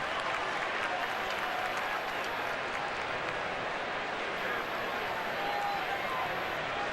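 A sellout crowd at Fenway Park fills the ballpark with a constant wash of murmur and scattered clapping on a warm night as the Cubs play the Red Sox, a broad, distant roar under faint talk.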